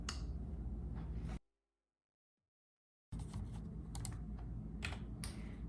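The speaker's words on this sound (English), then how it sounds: "the keyboard is kind of hard to use, but the sound is so satisfying" Keys clatter in rapid, uneven bursts on a satisfying-sounding computer keyboard during a first PC build, close and clear, with a pause of silence between two stretches of typing.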